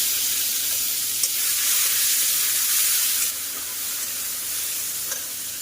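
Chopped tomato hitting hot oil tempered with cumin and asafoetida, a loud, dense sizzle that runs continuously and eases slightly partway through, with a few faint clicks.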